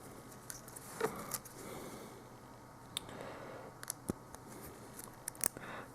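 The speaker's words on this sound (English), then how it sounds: "let's say we want to have this one here, this bent little servo arm, then just simply cut it out of the sprue" Snips cutting a small bent servo arm from a Finecast resin miniature's sprue: a few sharp clicks and snaps, close and crisp, over a faint background hiss.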